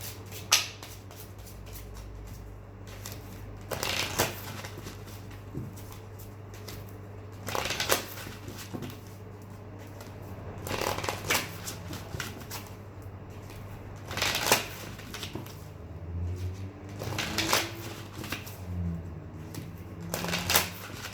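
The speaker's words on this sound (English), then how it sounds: "I just want to shuffle some more general cards" Tarot cards are shuffled in repeated quick bursts, soft riffles and slaps close by, with quiet pauses between and no talking.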